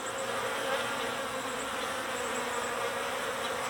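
Dense, steady buzzing of a honeybee swarm being caught, constant and close, with no gaps or other sounds over it.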